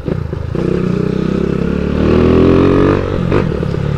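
A 160cc motorcycle engine with a 65.5 piston, running on alcohol through a carburetor, revs loudly and steadily up close, climbing to a higher pitch midway before settling back, with no talking.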